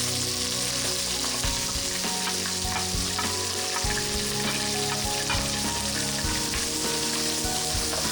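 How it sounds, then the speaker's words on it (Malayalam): Two lengthwise-sliced onions sizzle steadily in hot oil in a pan on the stove for chicken biryani, a loud, continuous frying hiss with occasional stirring scrapes and no voices. "ഈ സവാള ഇട്ട് വഴറ്റും."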